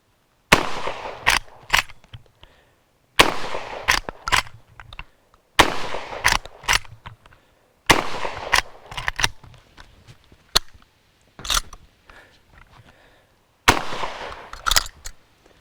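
A Century Arms PW87 lever-action shotgun fires Remington shells, loud sharp blasts repeated at a steady pace, each followed by the clatter of the action cycling, about six shots with short pauses between.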